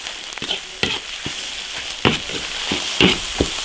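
Pig lung stir-fried in a wok with ginger, garlic, Sichuan pepper, chili and bean paste, crackling and sizzling loudly up close, broken by repeated sharp scrapes and clanks of the stirring utensil.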